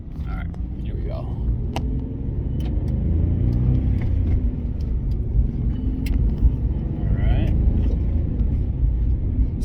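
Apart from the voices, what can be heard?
2005 Jeep Liberty Renegade driving down the street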